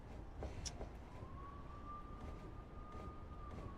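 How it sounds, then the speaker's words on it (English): A distant police car siren wails with a single long, steady rising and falling tone over low background rumble. "I can hear police sirens."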